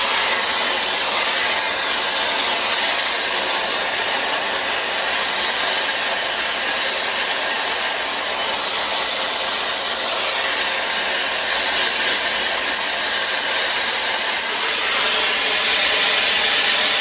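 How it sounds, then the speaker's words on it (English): A Shark FlexStyle hair dryer blows continuously, a loud steady rushing hiss of air held close without pause. "Finish blow drying my hair"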